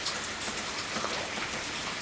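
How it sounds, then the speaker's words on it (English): Rain falls on a backyard as a continuous, even hiss of many fine drops striking surfaces, soft and steady with no voices. "It's finally raining here."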